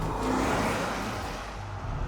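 An Audi SQ7's engine gives a muted, smooth hum and whir with a slight swell, brief and fairly close.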